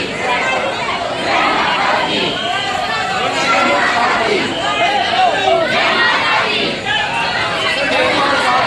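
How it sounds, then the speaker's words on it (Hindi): A dense crowd of devotees shouts jaikara chants inside a temple at Haridwar, loud and close, with rising and falling waves of massed voices and chatter filling the whole stretch. "हम सभी पे यहाँ जयकारा लगा रहे हैं।"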